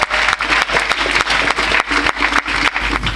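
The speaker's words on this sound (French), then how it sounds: "Acclamons pour Jésus-Christ." A church convention congregation in Korhogo applauds loudly and steadily for Jesus Christ, a dense wall of clapping that runs through the whole stretch without a break.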